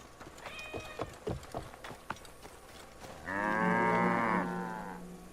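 A single domestic cow gives one long, loud, close moo in a recreation of ancient Egyptian livestock, preceded by soft scattered footsteps and ambient noise, with no talk.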